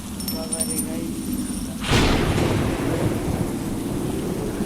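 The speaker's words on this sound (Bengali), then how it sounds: "দেখতে পাচ্ছ এরকম বৃষ্টি পড়তেছে মাত্র" Rain falling on a winter morning, a dense steady hiss that swells suddenly about halfway through into a heavier, louder downpour; faint tinkling tones sit above the quieter start.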